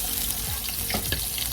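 Garlic sautéing in a pan that was just used for frying vegetables, a steady close sizzle with a few brief stirring scrapes and no talking.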